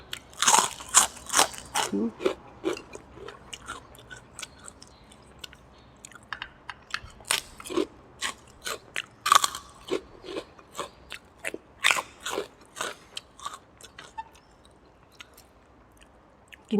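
Loud, close crunching and chewing while eating a bowl of pork noodle soup with meatballs topped with plenty of crispy fried garlic, with irregular crisp bites and pauses and no talk.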